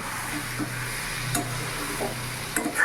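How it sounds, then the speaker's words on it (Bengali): Chicken kosha masala being stirred in a pan with a little water, a soft continuous sizzle with a few light scraping strokes of the spoon, close and steady, no talking. "এবার ভালো করে আমি নাড়াচাড়া করে নেব।"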